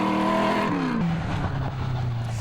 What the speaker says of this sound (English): The distinct tone of his V8 TR7 Triumph in stark contrast to the more modern turbo